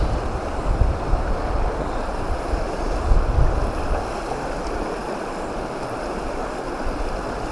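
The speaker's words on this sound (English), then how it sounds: "It's a little bit breezy now" Outdoor breeze buffeting the microphone during fly fishing in Te Urewera, New Zealand, a steady broadband rush of wind with low rumbling gusts and a water-like wash underneath, continuous and fairly loud with no talking.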